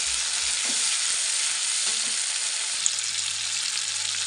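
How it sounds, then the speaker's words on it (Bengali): Ginger, green chili paste and turmeric fry in a pan for a tangra fish curry, with a constant strong sizzle and a few faint stirring knocks near the start and middle. "এর উপরে দেবো আমি হলুদ, দিয়ে আবার একটু কষিয়ে নেব।"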